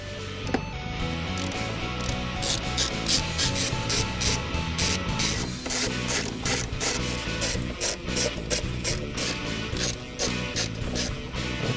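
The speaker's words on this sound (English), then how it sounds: "Now we can unbolt the plenum from the intake. There are 5 bolts that hold this on." A ratchet wrench clicks continuously and briskly as it loosens the intake plenum bolts on a 1996–2004 Ford Mustang, loud and close under a steady background hum.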